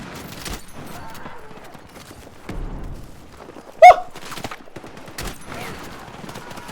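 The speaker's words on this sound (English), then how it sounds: "I know how to use this damn shotgun" Shotgun blasts in Battlefield 6, a single loud sharp report standing out amid other scattered in-game gunfire and thumps, with a voice talking over the action.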